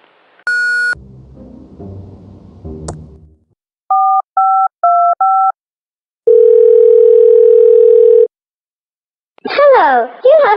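Phone tones from the game Thimbleweed Park: a short beep, then a run of dialing tones, and a long steady voicemail tone, loud and close, with a child-like voice talking before them and a voice chattering after.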